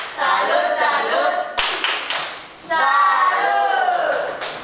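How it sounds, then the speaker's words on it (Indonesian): Classroom of students clapping hands in applause, a burst of dense clapping that pauses briefly, then resumes loud and close, with some voices mixed in. "Tepuk tangan, tepuk salut untuk Aiko."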